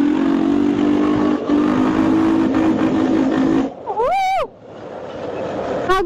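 A quad bike engine roars and revs loudly inside a short tunnel, its sound echoing, before the note drops and a rising, warbling whine cuts in.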